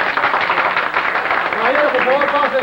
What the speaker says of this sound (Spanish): Un gran aplauso para ese gran hípico que enaltece al TAR venezolano.